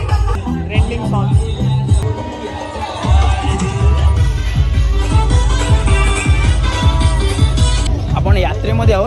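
A festive crowd fills a village yatra fair for a temple goddess, giving a dense, continuous hubbub of voices and cheering with music in the background. A person talks close by over the crowd.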